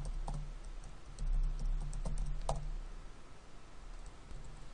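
Keystrokes tapped on a computer keyboard in quick irregular bursts, light and close, over a low steady hum with no voices.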